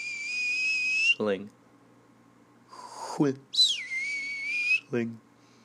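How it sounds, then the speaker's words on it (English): A high, steady whistle sounds in long bursts, broken by short lower squawking tones, a sharp piercing shriek like a kettle coming to the boil. "teapot whistling"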